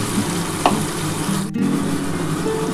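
Ground spice paste thinned with water hits a hot pan with a loud, continuous sizzle and a brief sharp spatter, steady throughout the short moment with no voices.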